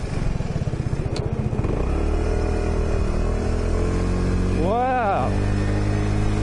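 A scooter engine hums steadily while riding, a constant close drone with a brief rising whine partway through and a short spoken exclamation over it.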